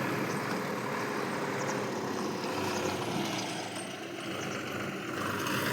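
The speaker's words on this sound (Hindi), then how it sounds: "वो जा रहा है ट्रैक्टर" A steady engine drone of a tractor rumbling past fields at moderate distance, holding fairly constant and dipping briefly before resuming.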